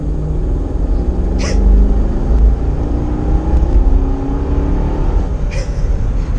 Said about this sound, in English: So we have a 5-liter V8, 292 horsepower, 338 pound-feet of torque. Let's give it full throttle.